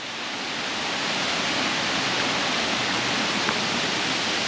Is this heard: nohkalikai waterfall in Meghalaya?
yes